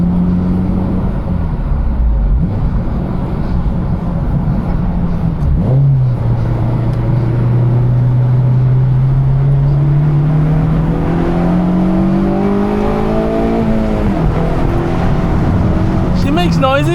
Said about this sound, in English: See if we can hear a little VTEC noises.